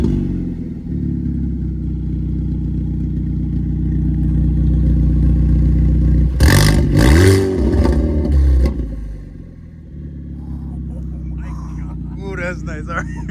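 A 2024 Hyundai Elantra N fitted with a Borla ATAK exhaust idles with a low burble, then gives one short, loud rev that rises and falls before settling back to idle, with people talking nearby.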